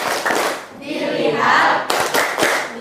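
Schoolchildren in an Indonesian Islamic religious class perform the 'tepuk fokus' clap chant, sharp rhythmic hand claps in short bursts alternating with their chanted voices, close and fairly loud.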